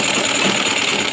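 Sewing machine running after a presser foot fix with the needle removed, a loud, close, steady mechanical whir and rapid rattle lasting about a second, with no talking.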